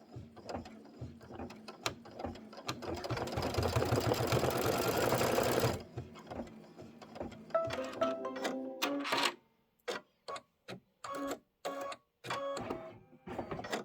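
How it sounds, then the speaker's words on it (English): An embroidery machine runs a tack-down stitch on a Halloween pillow block, stitching steadily and briskly for several seconds before breaking into short stop-start bursts of needle clatter. No one speaks. "And now you're going to do the tack down stitch."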